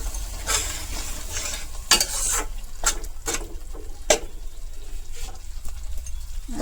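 Chopped tomatoes frying in a pan with a little water added, producing a steady sizzle while a utensil scrapes and taps against the pan in irregular strokes, close up and without talk.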